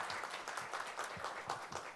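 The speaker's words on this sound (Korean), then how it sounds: "박수로 맞이해 주시면 감사하겠습니다." At a social value forum in Korea, a hall audience gives faint, distant applause in an even ripple to welcome a Dongguk University professor.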